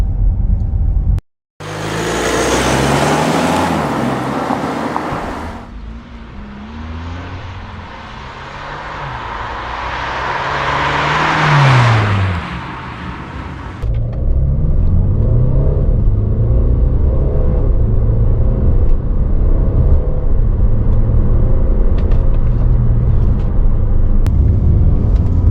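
A Mercedes GLC coupe, a relatively heavy SUV, accelerating hard in a speed test: a loud engine roar builds with rising revs through several gear changes, drops briefly, then settles into a steady heavy rumble of cruising road and engine noise.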